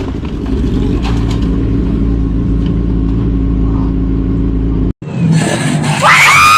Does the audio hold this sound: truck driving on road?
yes